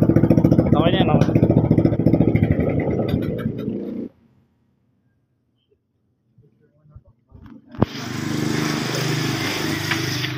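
A newly built engine runs loudly and steadily for about four seconds, cuts out to near silence, then fires back up with a sharp crack and keeps running at a steady, close rumble.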